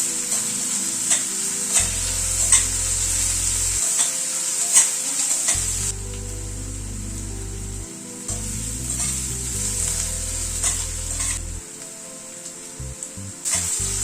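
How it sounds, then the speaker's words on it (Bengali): Ginger, green chili and garlic frying with onion in a pan, a steady bright sizzle with occasional stirring scrapes, while a low background hum switches on and off intermittently. "এবার আদা কাঁচা লঙ্কা রসুনটা পেঁয়াজের সাথে একটু হালকা করে ভেজে নেব"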